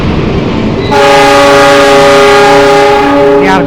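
Argo Sindoro passenger train departing from a station platform, with a loud, sustained multi-tone horn blast that starts about a second in and holds steady to the end over rumbling rail noise.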